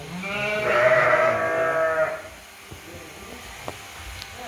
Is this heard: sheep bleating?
yes